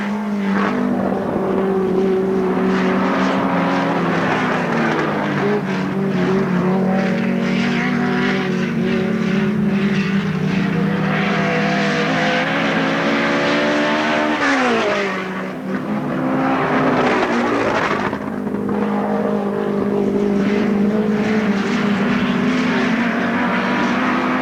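Race cars at Alwalton Raceway in 1983 roar past with engine notes that rise and fall as they pass, some tire squeal and one sharp pitch sweep midway, loud and continuous.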